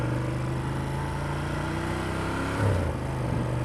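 A 2015 Ducati Monster 1200 engine runs steadily on a test ride, a constant loud hum with a slight swell near the end, heard alone.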